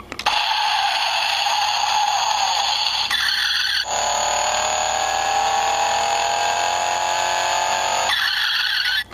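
A Road Rippers 2015 Dodge Viper Street Screamers toy car plays a loud, continuous electronic engine-and-screech effect with tire-squeal tones that shift pitch midway, running about eight seconds and stopping abruptly.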